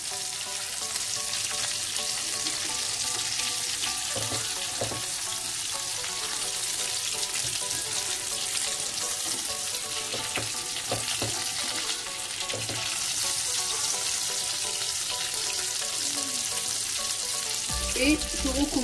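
Breaded sardines coated in chermoula and breadcrumbs fry in a pan with a steady, dense crackling sizzle that runs throughout, with a few louder pops and light stirring clatter near the end.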